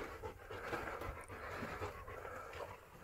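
A dog pants in quick, rhythmic breaths amid a creepy night scene, the breathing steady and fairly close against a noisy background, with no clear whimper standing out.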